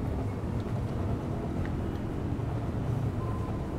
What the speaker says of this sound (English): it sounds like there's a tram in the area that's just spawned in